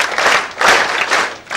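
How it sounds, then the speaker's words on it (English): A church congregation claps for visitors in a short, rhythmic burst, with the applause swelling and dipping in waves across the moment. "Let's give our visitors our issue clap."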